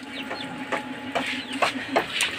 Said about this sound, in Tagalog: Daming mga manok dito ah.